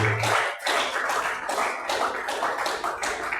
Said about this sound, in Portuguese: Para outras palmas bem forte para o Senhor Jesus Cristo